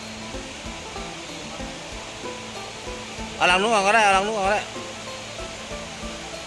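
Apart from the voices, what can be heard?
water falling over a weir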